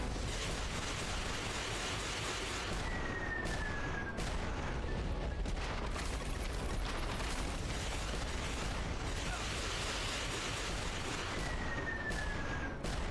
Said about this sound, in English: As you can see, there's a lot of rockets.